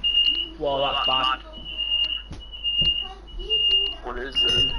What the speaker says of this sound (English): Who's making that beeping noise?